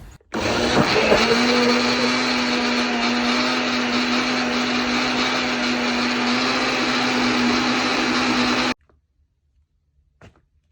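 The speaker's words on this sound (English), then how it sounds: "put it in the blender, add the potato, and then I'm going to be blending everything together" A blender whirs loudly and steadily for about eight seconds, blending potato and water into a homemade garden fertilizer, then cuts off abruptly and leaves near silence.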